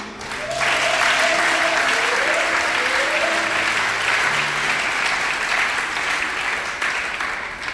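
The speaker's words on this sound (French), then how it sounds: "Et donc vous pouvez vous acclamer." A church congregation claps in sustained, loud, steady applause, with a few voices calling out over the clapping throughout.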